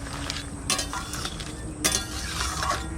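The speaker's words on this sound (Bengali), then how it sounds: "ঢাকাটা তুলে একটু নাড়া দেবো আস্তে জাল দিচ্ছি" Crab curry made Sundarbans style with red crab roe being stirred in a pot over low heat after the lid comes off, with a steady soft simmer and two brief spoon-against-pot clinks.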